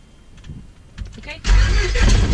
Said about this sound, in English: The engine's about to start.